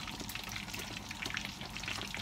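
Boiled pork frying in hot, smoking oil, a loud, dense crackle of popping and spitting that continues without a break, close up.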